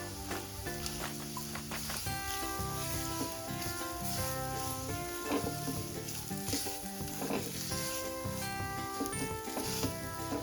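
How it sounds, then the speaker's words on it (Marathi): Soybean curry ingredients, including fresh coconut, sizzling as they are sautéed in oil over a low flame. A faint steady sizzle sits beneath louder background music playing throughout. "आपण अगदी व्यवस्थित असं तेलात परतवून घ्यायचंय"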